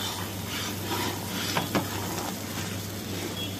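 Motichoor laddu mixture being stirred into a sugar syrup in a pan, giving a steady soft scraping and sizzling with two brief clinks of the spoon midway, close by and moderate, no talk.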